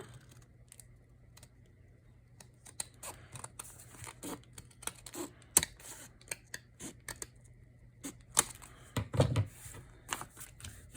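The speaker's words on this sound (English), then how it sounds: "I think I may come in and just trim this all even." Scissors trimming a junk mail paper envelope, a string of short, close snips and paper rustles at an irregular pace with quiet pauses between cuts, no talking.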